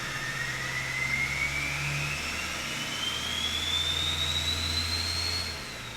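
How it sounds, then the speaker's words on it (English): An old Duramax diesel truck engine runs with the AC compressor off, a steady close rumble under a thin whine that rises gradually in pitch over several seconds before easing off at the end. "let's see if that terrible whine that I was hearing is there anymore"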